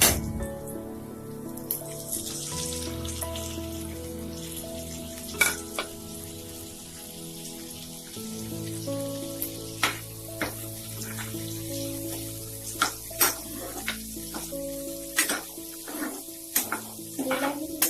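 Tomatoes fry in a pan for an Assamese drumstick curry, giving a steady moderate sizzle under a low ringing background tone, broken by sharp clinks and scrapes of a utensil against the pan.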